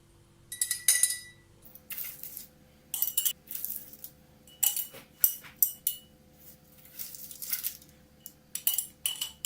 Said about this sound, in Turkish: Domatesleri sıcak sıcak kavanoza koyuyorum.